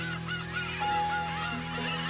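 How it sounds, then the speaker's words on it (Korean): A dense colony of black-tailed gulls on Gujido island, South Korea, calls continuously, overlapping mewing and honking cries layered thickly, loud and close. "참 시끄러웠던 괭이갈매기 소리."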